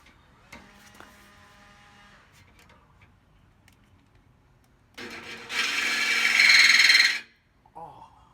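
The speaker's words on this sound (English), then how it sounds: "Grab the jigsaw, cut this out" Jigsaw cutting through material on a Toyota Tacoma, a brief faint buzz early on, then a loud, harsh burst of cutting lasting about two seconds before stopping, with a short final burst.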